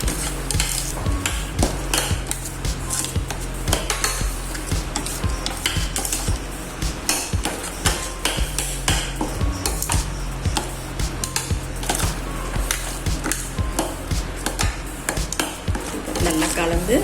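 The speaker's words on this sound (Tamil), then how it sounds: "பேஸ்ட் போட்டு 30 செகண்ட்ஸ் நல்லா வதக்குங்க." A paste for tomato kurma is sautéed and stirred in a pan over medium flame, with a constant close sizzle and repeated scraping strokes of the spoon against the metal.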